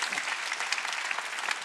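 A church congregation at a Wednesday worship service claps together in a steady, dense burst of applause that fills the room evenly from start to finish.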